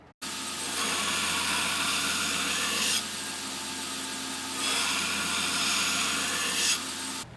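A steel hunting knife blade has its bevels ground on a belt grinder, producing a steady loud abrasive roar for several seconds with brief swells in intensity as the blade is pressed and repositioned.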